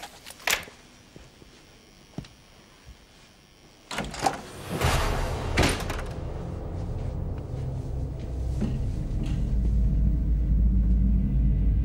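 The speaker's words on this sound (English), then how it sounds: "Look, I'm just going to open the door," A door opens with a sharp click and clatter followed by a rising, sliding rumble that swells into steady low noise, with scattered thumps and knocks before it; no speech.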